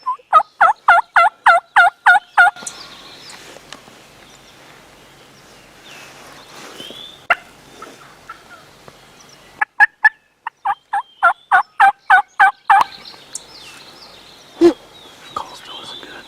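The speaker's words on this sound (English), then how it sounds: "I'm out with my friend Alex trying to capitalize on what we have left of active calling public land birds" Wild turkeys gobble on public land during hunting season, a rapid burst of loud gobbles at the start, then scattered calls and a second quick string later, with faint whispered talk in between.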